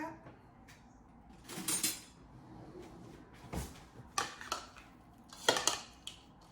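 Rice with olive oil and mashed garlic is stirred in a dish, giving a few separate clinks and scrapes of utensil against dishware amid quiet pauses.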